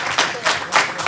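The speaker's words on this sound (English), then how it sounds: "Give yourself a round of applause." Audience applause at a live improv comedy show, a steady wash of clapping from a crowd that swells in bursts, loud and close throughout.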